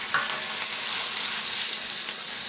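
Veal shanks for ossobuco browning in a hot skillet, a steady, dense sizzle of frying meat close by, with one brief clatter near the start.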